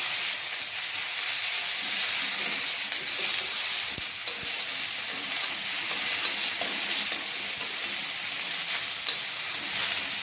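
Grated onion fries with cumin seeds in a pan, giving a steady close sizzle with occasional stirring scrapes and no talking.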